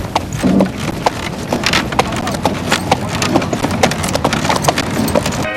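Horse hooves clip-clop steadily on pavement as a horse pulls a carriage on a sightseeing tour in Frankenmuth, Michigan, the evenly spaced hoofbeats close and clear over a light background murmur.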